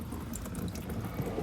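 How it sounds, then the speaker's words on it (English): Water draining from the engine of a 1954 Chevy Bel Air during a leaking water pump replacement, a steady close trickle and drip running alone for a second and a half. "All right, draining the remainder of water."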